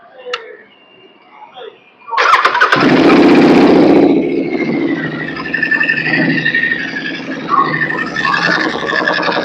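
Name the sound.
Royal Enfield Continental GT Cup motorcycle starting, open pipes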